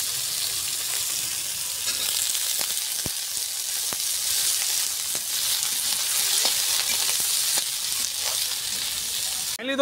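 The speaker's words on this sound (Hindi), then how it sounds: "इसी में दोस्तों हम लोग आलू को फ्राई करेंगे।" Potatoes frying in hot oil in a kadhai give a steady, dense sizzle that lasts throughout, close and loud, with occasional small pops and stirring clicks and no talking.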